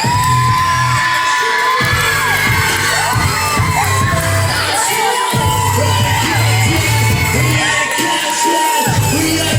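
A school concert crowd cheers and yells loudly over pounding music, whoops and shouts rising together with heavy beats thumping underneath.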